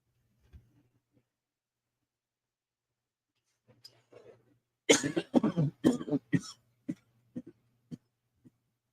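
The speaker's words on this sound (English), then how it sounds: "don't mean to cough in your ears" Several coughs break a quiet room, a faint one early, then a burst of harsh coughing followed by smaller throat-clearing coughs trailing off.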